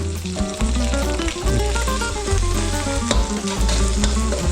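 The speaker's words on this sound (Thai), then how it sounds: "ผัดพริกแกงให้หอม" Red curry paste stir-fried with shrimp paste in a hot pan for a spicy Thai-style pork head stir-fry: a steady loud sizzle with scraping stirring strokes running throughout, and no talking.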